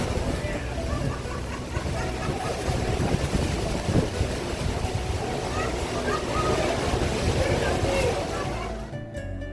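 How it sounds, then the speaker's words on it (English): Tour boat cruising past the American Falls at Niagara, with a steady roar of falling water, engine and wind buffeting the microphone, and voices faintly mixed into the din. "Now we cruise back by American Falls on our way back to the dock."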